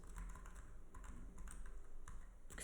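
Rapid clicking of keys on a new computer keyboard, steady and close, filling the whole stretch with no talking.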